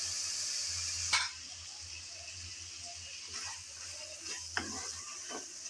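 Raw banana pieces sautéed in a pan: a steady soft sizzle of frying runs throughout, broken by a few sharp scrapes and knocks of a spatula, close up.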